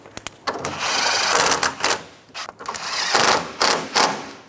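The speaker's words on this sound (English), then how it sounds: "Install your 10mm bolts. And then we'll snug those down." A ratchet tightening 10mm bolts on the radiator and condenser fan assembly of a 2007–2012 Nissan Altima, loud close clicking runs in several bursts separated by short pauses, without talk.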